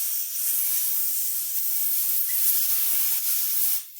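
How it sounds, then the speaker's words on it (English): Compressed air from an air compressor nozzle blasts in a steady, loud hiss while blowing out a small spring retainer from a Mikuni carburetor, with a brief sputter near the end. "blow it out with the air compressor"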